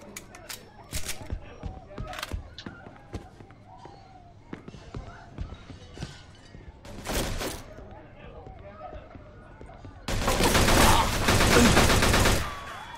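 Scattered gunshots ring out in Mafia 2, sharp single cracks spaced irregularly, then a loud sustained burst of fire near the end, with someone talking between shots.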